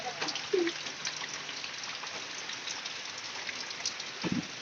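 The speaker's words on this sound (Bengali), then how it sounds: "এখনকার বর্তমানে বৃষ্টি হইতেছে" Steady rain falls around a pigeon loft, a continuous soft hiss of drops on surfaces with a few faint knocks and rustles nearby.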